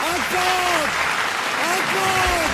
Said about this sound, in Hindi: तालियां हो जाएगा एक बार इस बंदे के लिए